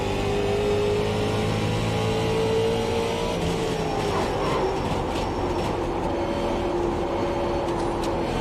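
A late model race car engine in the iRacing sim at USA International Speedway drones steadily and loudly throughout, its pitch shifting slightly as it runs, with no talking.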